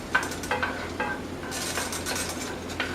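Garlic sizzles in olive oil in a pan over medium heat, a close, steady crackle with soft scraping and light clinks of a utensil stirring, no talking.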